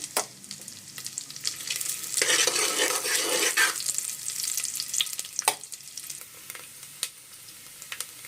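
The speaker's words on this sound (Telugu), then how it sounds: "కొబ్బరి ముక్కలు వేస్తున్నాను ఇవి చక్కగా వేయించుకోవాలి" Coconut pieces sizzle and fry in hot oil in a pressure cooker over high flame for a rice and jaggery sweet, a steady close crackle with a stirred burst in the middle and occasional sharp clinks.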